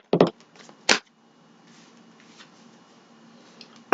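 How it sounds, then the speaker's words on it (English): Tarot cards shuffled by hand in a quiet room, two short riffling bursts close to the mic, followed by faint rustling and a final quick flick. "I'll give it a couple shuffles"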